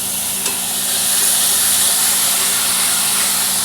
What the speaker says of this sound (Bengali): এবার বন্ধুরা আমি আদাটার রসটা দিয়ে দিলাম এতে